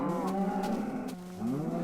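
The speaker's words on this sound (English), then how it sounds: "these cows are so loud and annoying" A Minecraft cow mooing loudly and close, a drawn-out low bellow with a second moo rising right after it.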